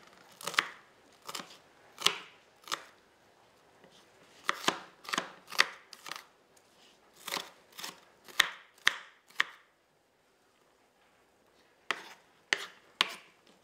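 A knife chops food on a cutting board in close, crisp strokes, coming in quick clusters of several chops separated by short pauses, with no speech.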